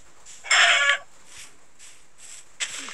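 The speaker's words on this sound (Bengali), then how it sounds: "মুরগিকে মারতে লাগবে।" A video game chicken clucks loudly once, then softer fowl sounds follow, with another short squawk near the end, all without talk.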